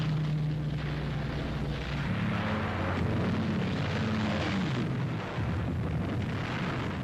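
Explosions from 24 Coastal Command Beaufighters attacking a grounded destroyer off the Ile de Bats with rockets and bombs in 1944, a continuous loud roar of blasts and rumbling fire with deep low drones throughout, no talk.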